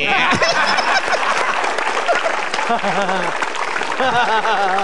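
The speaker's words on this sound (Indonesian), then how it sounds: "Tepuk tangan buat Metro TV." Audience applause at an Indonesian stand-up comedy show, a loud crowd clapping throughout with scattered chuckles and a voice talking over the noise.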